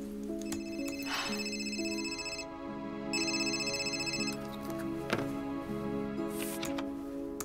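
A telephone rings repeatedly in a steady electronic pattern with short pauses, sounding fairly close and clear with no speech over it.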